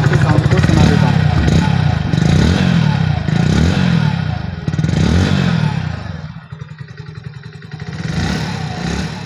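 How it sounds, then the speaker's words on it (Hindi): A 2023 Hero HF Deluxe self-start motorcycle idles and revs with a throaty exhaust burble, the pitch rising and dropping before settling back to a steady idle. "तो चलिए मैं आपको इसके एग्जॉस्ट के साउंड को सुना देता हूँ।"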